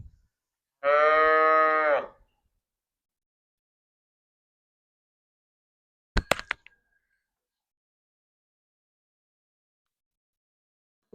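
A cow at a Punjab village livestock sale gives one loud, close, drawn-out moo lasting about a second, followed by a long stretch of near silence broken only by a brief clatter.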